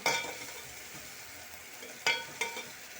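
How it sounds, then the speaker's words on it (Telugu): Seeds frying in about two spoons of hot oil in a pan on a stove, a steady close sizzle with two sharp crackling bursts near the end. "స్టవ్ వెలిగించి గిన్నె పెట్టి నూనె పోసిన, ఒక 2 చెంచాలు అంత పోసు గింజలు వేసిన"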